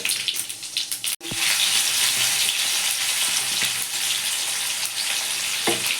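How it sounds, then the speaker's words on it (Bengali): Cumin seeds and onion frying in hot oil, a brief clatter then a sharp break before a loud, dense sizzle rises and holds steady, with a light scrape near the end and no speech. "তেল গরম হয়ে গেছে জিরে ফোড়ন দেবো দিয়ে পেঁয়াজ দেবো জিরে ফোড়ন দিলাম"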